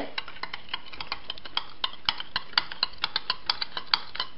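A spoon stirs coconut milk mixed with powdered rock sugar in a bowl, giving a steady run of light, rapid clinks and taps, close and clear, with no voices.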